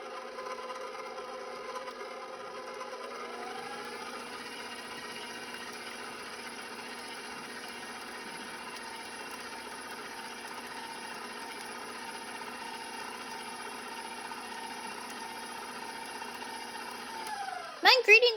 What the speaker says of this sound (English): I'm going to mix these ingredients until they're fully combined.